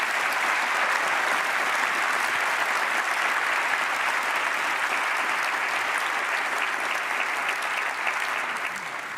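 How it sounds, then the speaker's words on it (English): Festival audience applause at the Gare Maritime during the New European Bauhaus festival: dense, sustained clapping filling the hall, steady and loud for the whole stretch and easing slightly at the end. "please, applause"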